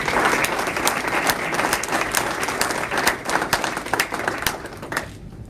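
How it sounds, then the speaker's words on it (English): Applause from an audience at a scholarship fund celebration in the Tampa Bay area, a full, steady burst of clapping with crisp individual claps standing out, cutting off abruptly after about five seconds. "give them a round of applause for what you're doing to lead this effort."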